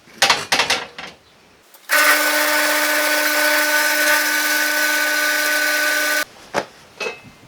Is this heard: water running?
no